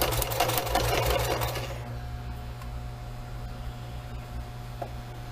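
A sewing machine stitches a dish towel in a fast, steady whir for about two seconds, then stops, leaving a quiet hum with faint ticks.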